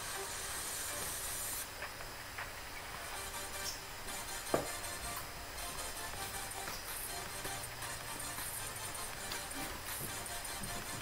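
A kettle of water at a rolling boil, a continuous loud steam hiss that runs unbroken, with a brief clunk midway and faint background noise.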